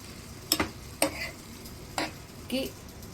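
Pasta being stirred in a pan, with four distinct scraping strokes spaced about half a second apart over a faint sizzle; close and fairly quiet, with no talk.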